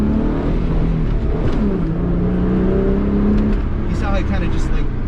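A Mitsubishi Eclipse 3G pulls hard under acceleration from inside the cabin, its engine note climbing in pitch, dropping at a gear shift, then rising again; loud and close, with people talking over it.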